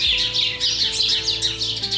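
Birds chirp and tweet continuously in a bright, busy chorus of overlapping calls, fairly close and steady throughout, with no voices.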